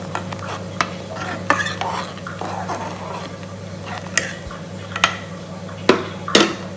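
Tea with cardamom and black pepper powder stirred in a pan on the stove, a spoon scraping and tapping the metal in repeated strokes over a low steady hum, with a faint sizzle and several sharper clinks.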